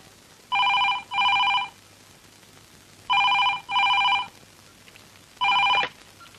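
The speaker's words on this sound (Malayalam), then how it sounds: "അനന്തു, ഫോൺ." A telephone rings in a newsroom: two quick double rings, then a single ring, each burst bright and electronic, with quiet pauses and a faint room hum between them.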